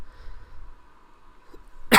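A single loud, abrupt cough bursts out at the very end of an otherwise quiet indoor stretch with faint background hum, a person at a table showing cheap townsfolk miniatures.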